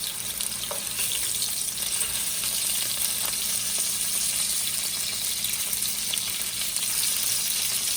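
Ends of ahi tuna searing in a hot pan, a continuous, even hiss of sizzling oil held steady throughout, close and moderately loud with no talk.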